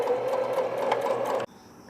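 Sewing machine stitching a folded one-inch elastic casing on newborn baby underwear, a steady close whirring run that stops abruptly near the end, leaving quiet room tone.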